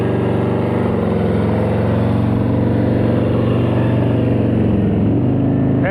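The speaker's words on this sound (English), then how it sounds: "He's listening to his engine." Motorcycle engine running steadily at low speed during slow-speed riding practice, a loud, close, continuous rumble with slight throttle changes and no talking.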